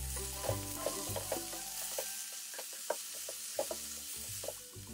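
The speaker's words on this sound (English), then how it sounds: "I'm adding tomatoes." Tomatoes drop into a pan of frying vegetables for veg hakka noodles, bringing a faint steady sizzle broken by soft scraping stirs and light taps, heard up close and alone.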